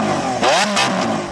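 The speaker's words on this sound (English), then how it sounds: "Now let's have a listen to the Aventador S." A Lamborghini Aventador S V12 engine revs hard in a couple of sharp rising and falling blips, loud and close, with no talk over it.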